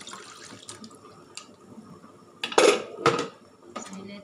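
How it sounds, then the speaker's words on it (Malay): Water is poured into a cooking pot holding palm sugar for a sweet syrup to serve with glutinous rice cakes, with a short splashing gush amid clinking pot and utensil sounds. "Sekarang saya letak air."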